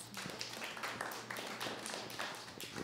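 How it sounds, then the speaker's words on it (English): Audience applause at a live body-language show, a dense patter of many hands clapping steadily for about three seconds, fairly quiet and even with no clear voices on top. "give him a big round of applause"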